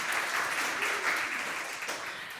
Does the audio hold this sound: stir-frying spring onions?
no